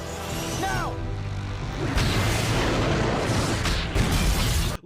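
A cartoon villain explodes in Regular Show, a loud sustained blast with sharp bursts partway through, cut off abruptly at the end; a brief voice and whistle-like tones come just before.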